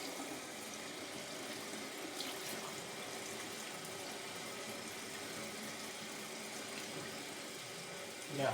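A water tap runs steadily while a razor is rinsed, a constant close hiss of flowing water with a low hum underneath and no talk.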